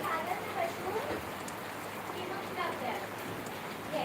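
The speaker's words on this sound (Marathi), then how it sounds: "बघ वाढला परत पाऊस" Steady rain falls, a dense hiss of drops pattering on surfaces throughout, with no clear pauses.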